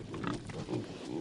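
Feral pigs grunting in a continuous run of low, rough snorts that rise and fall in several pulses, fairly close and steady, with no talking.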